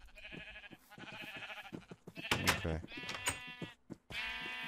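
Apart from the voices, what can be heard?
sheep bleating in Minecraft video game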